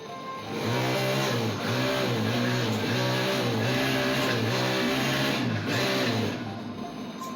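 A car engine, being cleared of water, roars at full throttle, holding a loud, steady drone with rhythmic pulsing before easing off near the end.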